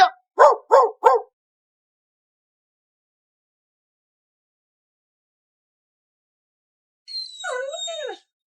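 A dramatic sound effect opens with a few quick dog barks, then silence, then a short, high dog howl or whine near the end, with no speech.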